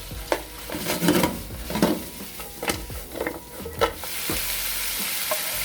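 Smoked duck stir-fried in a pan, a close sizzle broken by irregular scraping and tossing strokes of the utensil against the metal, several distinct hits spread across the stretch before the frying settles into a steady hiss.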